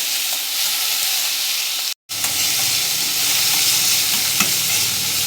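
Chopped onion drops onto hot oil tempering and fries with a loud, steady sizzle and hiss. A brief dropout cuts in near the two-second mark, then the crackling frying carries on with no one talking.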